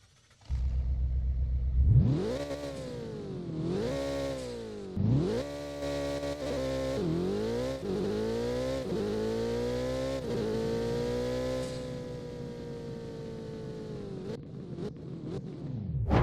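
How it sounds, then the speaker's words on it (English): A car engine in a Roblox driving game starts with a low idle rumble, then revs up and falls back several times before holding a steady high whine and easing off. The engine is close and loud, with no voices. "Now let's talk about the engine sounds."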